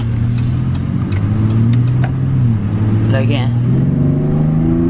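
A 2017 Chevy Colorado Z71 fitted with an aFe cold air intake revs loudly up and down in a steady, close engine drone, while someone briefly speaks over it.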